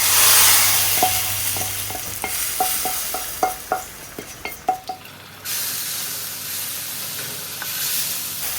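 Fried spice tempering sizzles and spits as it is stirred into a pot of lentil dal, with a string of sharp crackling pops and clinks over a steady frying hiss, then settling to a softer simmer.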